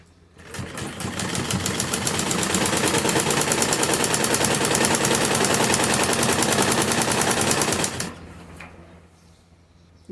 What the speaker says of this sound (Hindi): सेम इसी तरह से खाली 10 इंच की सिलाई लगाएंगे।